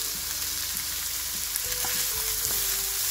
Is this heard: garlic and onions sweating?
yes